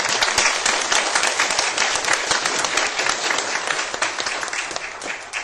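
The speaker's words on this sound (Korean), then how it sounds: "동의하시면 우리 청소년들을 위해서 박수 한번 드릴까요?" A church congregation at an afternoon worship service bursts into sustained applause for the youth group, dense, even clapping from many hands filling the room for several seconds without speech.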